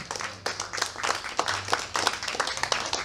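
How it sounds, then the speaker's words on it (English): An audience applauds at Beverley Kelso's 77th birthday celebration, with steady, moderately loud clapping from a modest crowd and a faint murmur of voices under it. "we want to applaud her on this special occasion"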